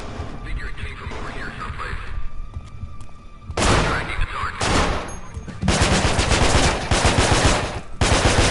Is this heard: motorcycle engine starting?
no